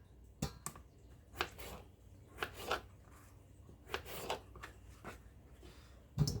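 A knife cuts potatoes into chunks on a board for canning, giving quiet, sharp chopping taps in an irregular rhythm, close and faint.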